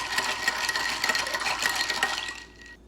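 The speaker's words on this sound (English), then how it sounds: "Squeeze a little bit of lemon juice. And give it a stir." A michelada with lemon juice stirred in a glass, a continuous wet swirling and clinking that runs for over two seconds and then stops abruptly.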